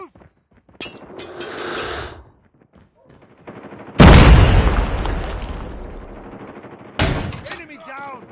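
A grenade explodes with a loud, booming blast in the mobile shooter COD Mobile. Bursts of gunfire come before and after it, and shouted voices are heard alongside the combat.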